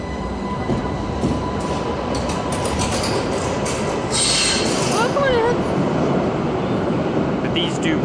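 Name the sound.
U11 U-Bahn tram train in Essen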